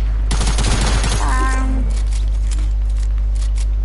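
Gunfire in the video game Fortnite, a rapid burst of loud shots followed by scattered single shots, with game effects over a constant low hum.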